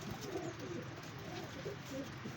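Cooing from a flock of flying show pigeons kept by fanciers, a soft continuous low warble of several birds nearby with little else around.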